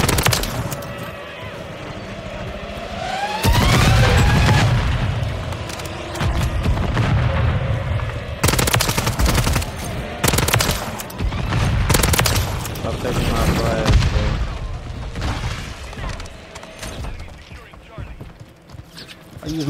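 Gunfire in Call of Duty: Modern Warfare 3, dense rapid shots and booms mixed with game effects, loud and continuous over most of the stretch while a player talks over it.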